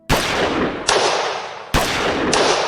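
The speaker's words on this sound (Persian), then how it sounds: "کریس و بری هر دو به حالت تدافعی درآمدند و به دسته سگ‌های پشت سرشان شلیک کردند" Four loud, booming gunshots in quick succession, fired at a pack of dogs, each with a long echoing tail that hangs in the air, no voices.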